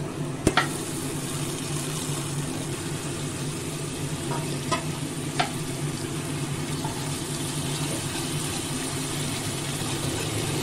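Thankuni leaves sauté in a pan with tempering spices, salt and turmeric, giving a long even sizzle with a sharp knock early on and a few faint stirring clicks later. No one talks.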